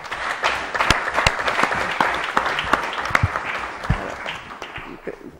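Applause for Senator Isabella Rauti at an event on Italian right-wing press and propaganda: a steady, dense crowd clapping with sharp individual claps standing out, continuous through the whole stretch at moderate loudness.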